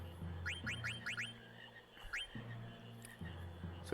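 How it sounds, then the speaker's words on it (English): Repeated chirping frog croaks in Final Fantasy IX, several quick calls in bursts over a steady low game music drone, fairly close and clear. "We're done catching frogs. Let's continue on with the game. We'll just leave those frogs here."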